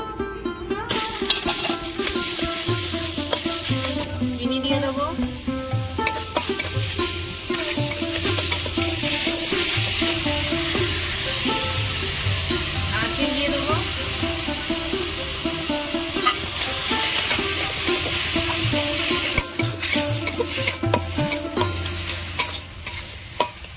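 Boiled papaya stirred in a frying pan with ghee for a papaya sweet, a steady loud sizzle with continuous scraping of the spoon against the pan throughout.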